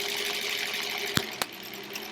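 A sewing machine stitches quilt rows, a steady mechanical whir close by with a couple of sharp clicks partway through and no talking.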